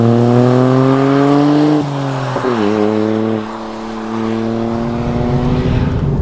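A Toyota GR Yaris engine revs loudly through an aftermarket Aulitzky OPF-back valved sporty exhaust, its tone rising, dropping and climbing again in strong harmonic sweeps, close by.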